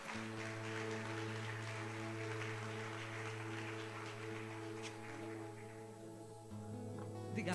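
A church congregation applauds steadily for several seconds, a dense patter of clapping running under sustained keyboard or organ chords.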